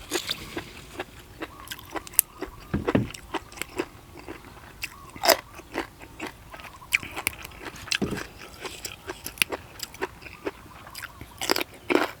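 Repeated crisp crunching bites of raw bitter melon eaten alongside spicy Thai-Lao papaya salad, close and loud, with chewing between bites in an irregular rhythm; no talking.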